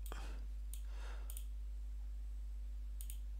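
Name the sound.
computer mouse clicking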